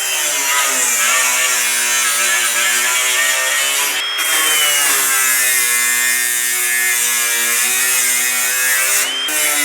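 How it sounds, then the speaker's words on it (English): A power drill or driver runs steadily as screws are driven through a drawer slide to lock it in place, a loud continuous whine with two brief breaks where the motor pauses before resuming. "we are going to fix that permanently in just by running screws right through here until that is basically locked in"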